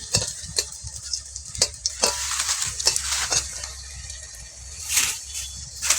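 Fish and gram flour koftas fry in a small amount of oil, a close sizzle broken by repeated scraping and stirring strokes and light utensil clinks, with no talking.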